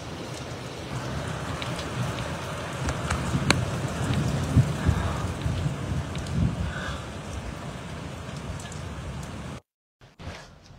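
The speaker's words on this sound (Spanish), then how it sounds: "aquí tormenta no, aquí tormentón." Heavy rain pours steadily during a thunderstorm in Val del Mazo, a dense, loud, continuous wash of drops on surfaces with gusty swells, cutting off abruptly near the end before a few faint sounds.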